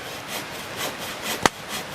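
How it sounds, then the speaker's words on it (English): A hand saw works through a tree at a wild camp in Scotland, giving soft, rhythmic rasping strokes with one sharper knock near the end, fairly quiet and with no talk. "Still sawing that tree."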